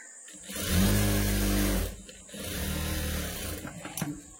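A sewing machine runs in two bursts while stitching cloth for a blouse, a steady motor whir lasting about a second each, close and fairly loud, with a short pause between runs.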